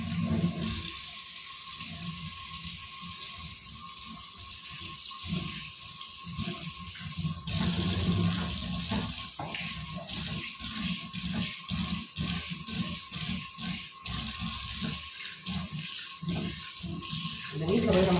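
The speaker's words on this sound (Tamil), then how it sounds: "பாத்திரம் மாத்திரம் கழுவணும்." Water runs steadily from a kitchen tap while dishes are washed, a constant hissing flow with occasional clinks, and a voice talks over it.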